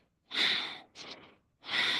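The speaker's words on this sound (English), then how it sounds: "Inhale as you open, exhale as you bring it in." Deep breaths taken during a kundalini kriya: two long, airy breaths with a shorter one between them, close and fairly loud, with no talking.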